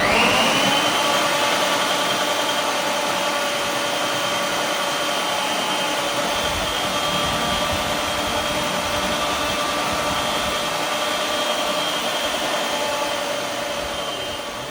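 Preethi Zodiac Cosmo mixer grinder grating beetroot, a steady loud motor whine with a constant high pitch that runs without a break for the whole span, with no talking over it.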